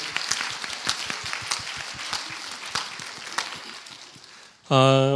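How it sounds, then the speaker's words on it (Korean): A church congregation applauds on Easter Sunday, a sustained round of clapping with distinct claps audible through it, fading out before a voice begins speaking at the end. "우리 부활하신 주님께 박수로 영광 올려드립니다"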